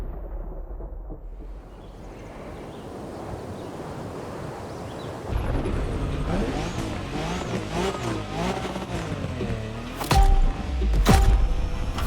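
A car drifting in The Crew Motorfest, a torquey drifting-legend movie car, with engine roar and tire squeal building after a quiet start and sharp bursts near the end.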